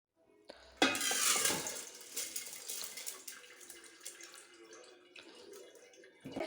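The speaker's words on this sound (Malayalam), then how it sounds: "ഇത് നമുക്ക് അരിപ്പയിലിട്ടിട്ട് ഇതിൻ്റെ വെള്ളമൊക്കെ ഒന്ന് ഊറ്റിയെടുക്കാം കേട്ടോ" Soaked raw rice is tipped into a sieve in a kitchen, a sudden rush of pouring water and grains that tapers into trickling and dripping, with light clinks of utensils near the end.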